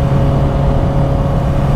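A motorcycle fitted with an aftermarket exhaust runs with a steady, loud engine drone and low rumble, held at a constant pitch close by with no talk over it.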